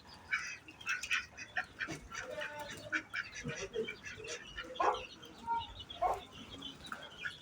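A group of five or six ducks quacking over and over in irregular bursts, close by and fairly loud, with no talking.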